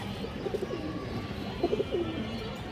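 Pigeons of old local Bengali breeds, offered for sale at a seller's stall, coo softly in a few short low bursts against steady background noise.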